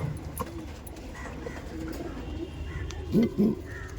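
Andhra pigeons coo in a pigeon loft, several soft rolling coos, clearest as a close pair near the end, over a low background murmur.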